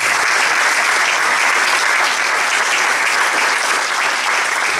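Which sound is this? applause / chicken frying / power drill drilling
applause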